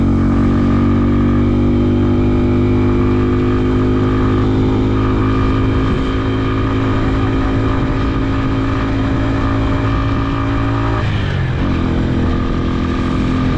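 A motorcycle engine drones loudly and continuously during a windy village ride, straining and not pulling well before it has warmed up. The tone holds steady with a brief dip and recovery near the end, and there is no talking.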